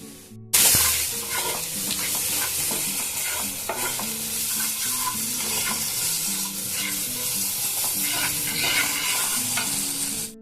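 A spice mixture with jaggery and salt stir-fried in a pan, sizzling loudly and continuously with frequent scraping and stirring strokes, close up and with no voices.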